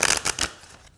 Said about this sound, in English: they stick a little bit together like this when you shuffle, but when you shuffle the other way, they don't stick that bad